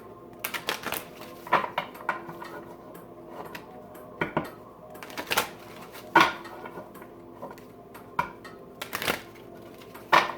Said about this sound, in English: now we're going to pull a card for the Divine Masculine from Stacey DeMarco's Gods and Titans deck